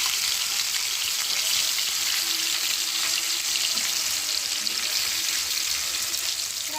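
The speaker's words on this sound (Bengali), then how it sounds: "মাছ ভাজা হয়ে গেছে" Tilapia fish frying in oil in a pan for a fish curry, a loud, continuous hiss and crackle with no talk, steady from start to finish.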